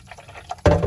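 Water is poured into a bumpy-sided paint brush basin, a sudden splashing gush that begins after a quiet moment and continues loudly to the end.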